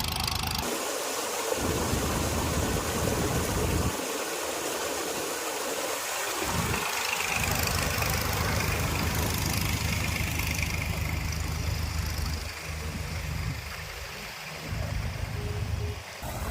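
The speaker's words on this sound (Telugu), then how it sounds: "ఎన్ని మోటార్లు ఆన్లో ఉన్నాయి" Steady mechanical droning of dewatering pump motors runs throughout at a construction site in Amaravati, a constant low rumble with a rushing, watery hiss layered over it.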